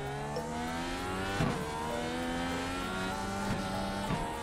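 Race car engine in a racing video game revving up quickly through the gears: a loud, continuous engine whine climbing in pitch with brief dips at each rapid gear change, heard alone without talk.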